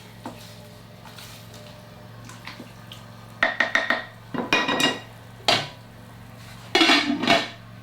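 Brisket being stirred in a pot, with a few loud clatters of a utensil against the pot in brief bursts after a quieter stretch, close by with no talk.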